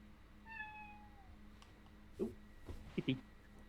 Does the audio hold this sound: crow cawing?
no